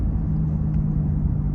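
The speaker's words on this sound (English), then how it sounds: "can hear that exhaust brake working" An 8-speed RAM 2500 diesel pickup's exhaust brake engages, heard from inside the cab as a steady, deep engine rumble with a low droning hum and no break.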